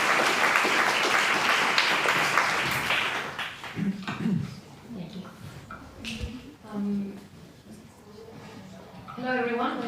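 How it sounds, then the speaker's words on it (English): An audience at a citizen science conference applauds for about three seconds; the clapping fades and a nearby voice begins speaking. "Little applause for Maya and Ekle."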